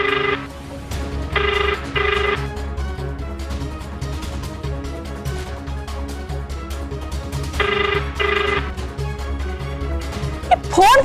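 A telephone bell rings in an Odia TV serial scene, with short double rings repeating, then pausing and returning over a steady musical background.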